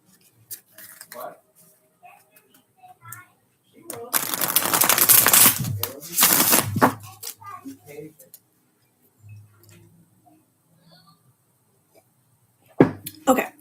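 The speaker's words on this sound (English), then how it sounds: "One more little shuffle." Tarot cards are shuffled in a couple of bursts of crisp riffling and flapping, with quieter handling clicks and a person talking softly before and after.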